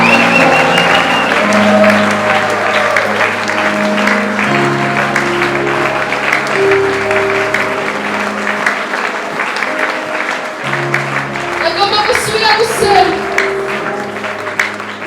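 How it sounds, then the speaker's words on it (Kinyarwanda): A church congregation claps steadily in rhythm throughout, with a loud voice singing or calling out over the hands and more energetic clapping near the end. "Turagukomeye amashyi mu izina ryawe"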